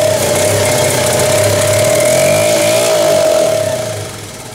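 A small Honda TRX 70 ATV engine runs on a carburetor in a can, a loud, buzzing steady drone with a fixed pitch that fades slightly near the end.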